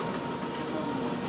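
Interior of a moving DB RB 27 regional train near Köln: a steady rolling rumble with a broad hiss of wheels and carriage noise, continuous and fairly loud, with no talking.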